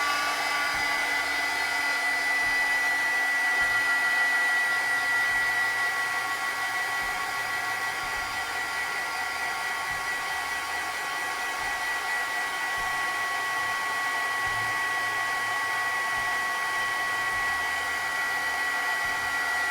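A heat tool blows continuously and steadily at close range for the whole stretch, warming embossing powder on a Halloween card, with a constant whooshing hum and no talk.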